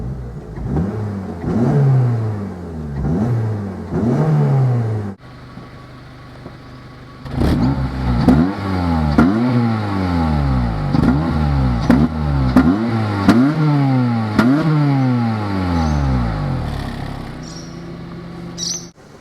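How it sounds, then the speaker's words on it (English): A warmed-up Honda Civic Type R FN2 engine revs repeatedly, each loud, near blip climbing sharply then falling back to idle in a steady series, with faint bird chirps in the background. "Since the car is warmed up, I'll give it a couple of revs."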